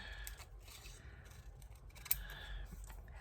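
Scissors trim the white edge off paper for a collage, giving soft, faint snips close by over a low background hum, with one slightly sharper cut.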